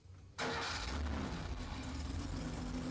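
A BMW engine with K-Jetronic continuous fuel injection cranks and catches abruptly, then settles into a steady, fairly loud idle that runs on evenly close by.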